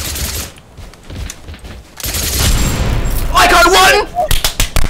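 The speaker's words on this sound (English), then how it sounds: "Oh, the grenade! The dynamite I planted! It worked!" Planted dynamite goes off in a video game, a loud burst amid rapid gunfire and impacts, with a sharp blast and crackling debris near the end while a player shouts.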